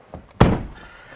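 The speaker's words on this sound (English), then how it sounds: "Let's close the door." A Volkswagen car door shuts from inside with a single solid thunk, close and loud, after a couple of faint soft knocks, then settles into quiet cabin hum.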